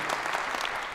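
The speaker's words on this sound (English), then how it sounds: "clap for Rebecca" A short burst of audience applause for Rebecca Lewis of the US Embassy during a city address in Bristol, a dense, even patter of many hands clapping for about a second.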